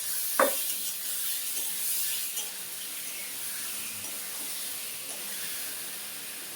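A pan of eggs frying with Kashmiri chili powder gives off a soft, steady sizzle and hiss, with a brief sharp clink near the start.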